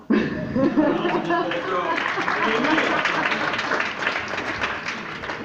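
An audience breaks into applause that starts suddenly and holds steady for several seconds, mixed with murmuring and some voices at a French legal conference.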